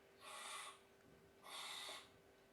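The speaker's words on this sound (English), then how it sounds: "This is a barn owl." A barn owl's call plays through a smart speaker as two faint, breathy, hissing screeches, each about half a second long, separated by a short pause.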